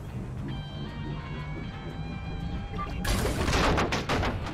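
Weapon fire in the Destroy All Humans 2 video game, first a humming tonal charge, then a sudden loud burst of crackling blasts that keeps going to the end, no talk over it.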